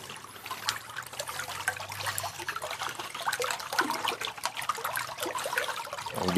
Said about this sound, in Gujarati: એક તો ચાલુ કરી જો પાણી આવવા માંડ્યું